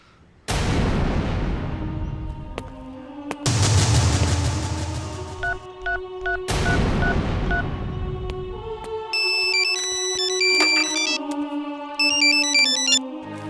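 A telephone call to the commissioner rings out in a dramatic movie scene, heavy booming hits giving way to repeated electronic ringtone beeps and tones, loud and alone.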